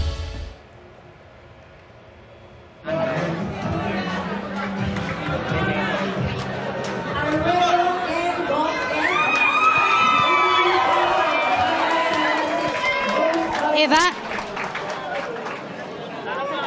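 At Caloocan City Hall, a crowd shouts and cheers as winning candidates in the 2025 election are formally proclaimed. After a quiet start, the noise rises suddenly and stays loud and dense to the end.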